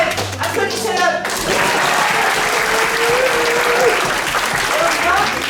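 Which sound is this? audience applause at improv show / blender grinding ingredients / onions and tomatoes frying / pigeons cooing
audience applause at improv show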